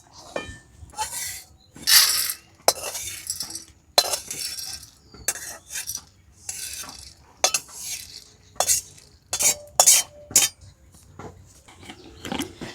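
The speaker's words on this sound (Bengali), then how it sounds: "অল্প আঁচে নাড়াচাড়া করে অতিরিক্ত জলটা শুকিয়ে নেব।" Rice is stirred in a pan over low heat, a run of close, irregular scrapes and metallic clinks from a spatula against the pan, alone without talk, while preparing Bengali chal bhaja.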